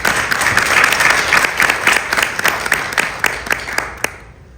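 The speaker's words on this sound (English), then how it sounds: "round of applause to all of you for making that happen." Applause at a chamber of commerce board installation event: a loud, close burst of many people clapping that thins into scattered individual claps and fades out.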